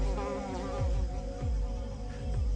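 Solitary bees buzz steadily in a garden, a close, continuous drone with repeated low swells of wingbeat as insects move near.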